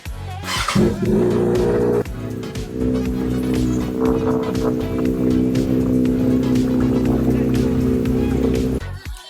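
A Kawasaki ZX-6R motorcycle engine starts up and holds a loud, close, steady idle with a few light revs before cutting off.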